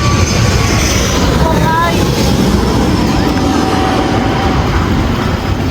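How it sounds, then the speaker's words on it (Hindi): An airplane passes low overhead near the Dimapur airport runway, a loud, steady, broad roar filling the whole stretch without a break. "एक प्लेन ठीक ऊपर से गया"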